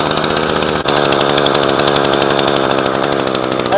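A Shindaiwa T235 weed eater engine runs at a high idle. It gives a loud, steady, close two-stroke drone with only one brief dip.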